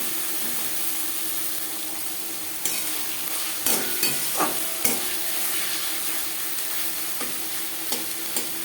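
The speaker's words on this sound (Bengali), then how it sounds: "মশলা ও পেঁয়াজের সাথে মাছের তেল বেশ ভালো করে মিক্স করে দেব।" Fish oil, spices and onion sizzle in a pan while being stirred, giving a loud continuous hiss broken by scraping and knocks from the spoon.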